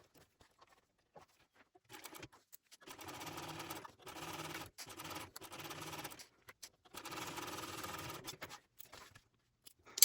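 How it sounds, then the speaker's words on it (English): Sewing machine running in several bursts, stitching a pocket seam 1/8 inch from the edge on a shoulder bag, with short pauses between runs and quiet handling sounds before the first burst. "I'm going to stitch this one on again at 1/8 of an inch"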